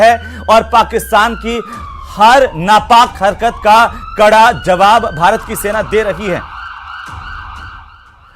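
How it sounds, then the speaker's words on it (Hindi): An air raid siren wails during a blackout in Barmer on the Rajasthan border, a long sustained tone running under a news reporter's speech and then continuing alone at the end. "आप सुन सकते हैं कि यहां पर सायरन बज चुका है"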